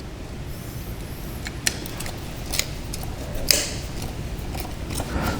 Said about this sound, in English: I ended up having to cut the head off this screw